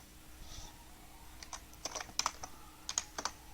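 Code is typed on a computer keyboard for a horror game script: scattered bursts of light, quick key clicks, sparse at first and then clustering into rapid runs, close and without speech.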